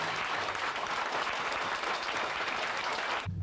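At dusk, a waiting crowd at Okusan shrine in Japan greets a fire procession led by descendants of Korean potters with a continuous wash of applause and cheering that holds steady before breaking off abruptly.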